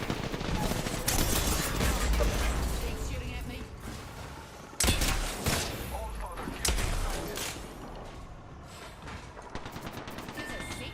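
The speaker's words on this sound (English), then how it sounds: "Shooting at me." Dense gunfire in a late-night video game, sustained rattling volleys and sharp bursts heard up close, with a player speaking over the shooting.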